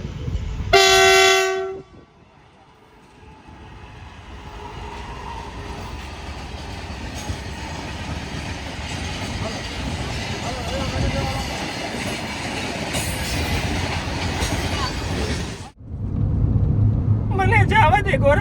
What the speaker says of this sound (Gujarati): ટ્રેન જો આવે બહુ જ ધીમી આવે છે